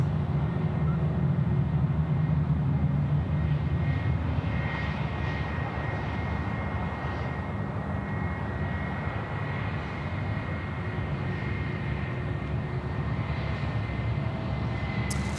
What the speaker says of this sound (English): the Emirates 417 off to Dubai, the 777-3 pretty much ready to go now